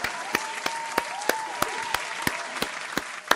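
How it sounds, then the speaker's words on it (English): A small group applauds a new staff member with steady, sharp hand claps in a quick even rhythm, close and moderately loud, with faint voices underneath. "Can we clap it up?"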